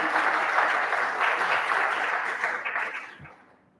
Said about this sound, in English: A round of applause for our team that has achieved this